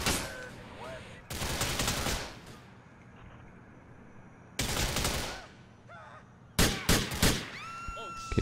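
Gunfire in the video game GTA IV, with bursts of rapid shots at moderate volume separated by quieter stretches, followed by a cluster of sharper, quicker shots near the end, mixed with game sound effects.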